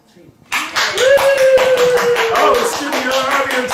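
A toy sound effect plays a crowd cheering and clapping in a steady, dense roar that lasts several seconds, loud and close inside a clothing store during a podcast recording.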